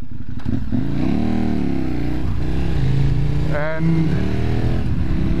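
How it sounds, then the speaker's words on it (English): A KTM 1190 Adventure motorcycle fitted with a low windscreen hums steadily while being ridden on a dark road, its engine drone and wind rush running continuously beneath a rider talking close to the mic. "the bike I ride right now is a KTM 1190 Adventure"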